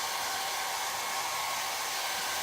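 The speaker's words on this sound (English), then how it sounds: "I'm just gonna use my hair dryer" A hair dryer blows steadily to dry ink on a whiteboard craft transfer, a close, constant broadband whoosh with no breaks and no voices.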